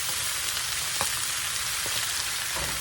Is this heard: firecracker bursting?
no